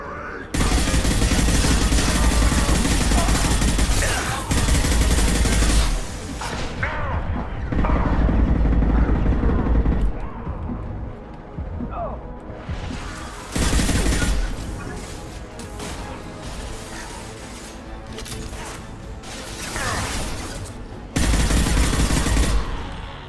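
Dense bursts of automatic weapon fire and explosive blasts in the Mass Effect Legendary Edition video game, loud sustained volleys broken by brief lulls and mechanical clanks, with faint speech.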